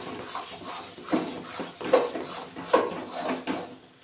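Roasted spice powder being stirred into amla in a pan, giving a steady run of scraping, knocking stirs of utensil against cookware, close and fairly loud, with no talk.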